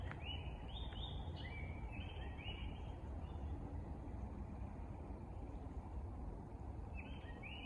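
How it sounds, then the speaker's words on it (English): Faint songbirds chirp in short repeated phrases in woods in Ohio, over a steady low rumble of distant traffic. "There's a couple songbirds up here. I'm gonna try to be quiet and let you hear them"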